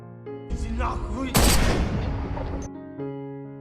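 Sniper rifle gunfire and a vehicle explosion in an action film scene, with a loud burst of blast and debris swelling over a sustained low musical drone, then dropping back to the score.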